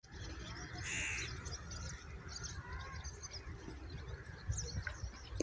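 Birds lined up in a Pakistani village setting chirp and call steadily throughout, with a few harsher crow-like squawks standing out over a constant low rumbling background.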